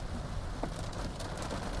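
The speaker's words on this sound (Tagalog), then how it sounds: "Napakalakas ng ulan." Heavy rain pours steadily as a continuous, dense wash of noise with no gaps, with a few faint bird calls.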